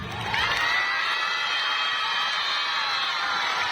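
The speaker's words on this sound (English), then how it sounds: "Give a big round of applause for them" Students cheer and shout at a school Children's Day prize ceremony, a dense crowd roar with high whoops that swells early and holds steady, loud and continuous throughout.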